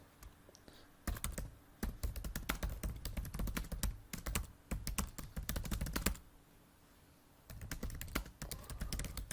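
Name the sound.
typing a comment on a computer keyboard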